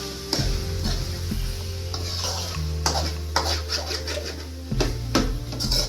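Spicy chicken gravy fry being stirred in a pan, with steady sizzling and repeated scraping and clinking of a utensil against the metal, close and fairly loud, no talking.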